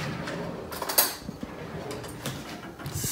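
Someone rummages through kitchen cutlery for a spoon: a few sharp metallic clinks and rattles, one brighter clank near the start, then softer shuffling and a drawer-like slide, close by with no talking.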